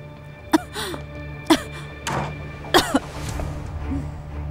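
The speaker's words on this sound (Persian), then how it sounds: "فقط یکم سرفه میکنم" Several short coughs and throat-clearing sounds come one at a time with pauses between them, close and clear against a quiet indoor background, in a Persian-dubbed drama series.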